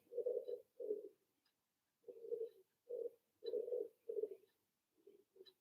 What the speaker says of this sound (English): Maybe you hear some pigeon outside making beautiful noises.